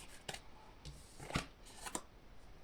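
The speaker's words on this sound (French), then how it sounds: "Je vais en tirer une autre carte." Oracle cards rustle as they are shuffled and drawn, giving a few brief, close papery flicks and slides at a quiet level with no talking.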